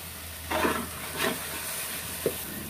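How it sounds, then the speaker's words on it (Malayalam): Coriander powder for a Malabar-style beef dum biryani masala stirs and fries in a pan, with a steady low sizzle under three short scraping stirs, the last one sharp and brief. "ഇനി ഇതിലേക്ക് 4 ടീസ്പൂൺ മല്ലിപ്പൊടി ചേർത്ത് കൊടുക്കാം."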